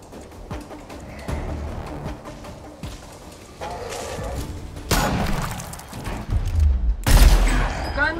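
Gunfire in the tactical game Gears Tactics amid a chaotic firefight: scattered rapid shots and thuds building to louder bursts and explosive booms near the end, with voices calling out over the battle.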